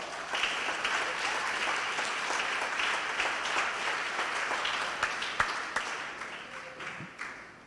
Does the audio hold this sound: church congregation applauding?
yes